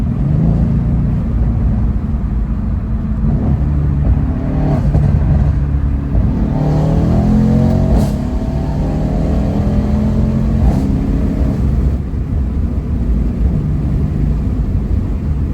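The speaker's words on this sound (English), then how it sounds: "I wish you guys could be sitting in the passenger seat to hear what this car sounds like" A Mercedes C63 S Cabriolet engine rumbles steadily with rising and falling revs, heard from inside the car, loud and continuous throughout.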